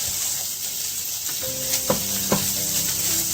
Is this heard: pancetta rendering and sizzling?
yes